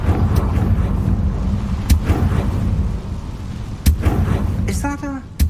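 Confringo fire spell from the Hogwarts Legacy video game going off as a few sharp blasts over a steady rumbling, windy game ambience, with a voice casting the spell.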